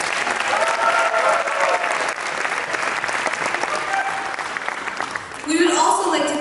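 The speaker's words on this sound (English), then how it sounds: "So let's give them a big round of applause." Loud, dense applause from the audience at a student skits night show, sustained across the whole stretch with a brief dip and a swell near the end.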